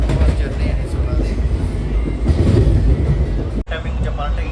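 Steady loud rumble and rhythmic rattle of a superfast express train running from Secunderabad toward Villupuram, heard from inside a coach, with a brief dropout near the end and people talking over it.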